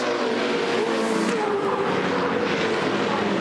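Touring Car Masters race cars roar past at Bathurst with a loud, steady engine drone, a rising whine and a brief tyre squeal, continuous throughout with no talking.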